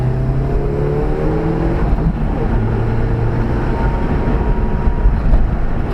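A Mitsubishi Galant VR4 climbs a steep hillclimb course, its engine droning loud and steady close up with shifting harmonic tones throughout.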